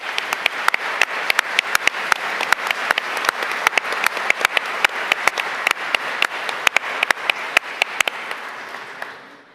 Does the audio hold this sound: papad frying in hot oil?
no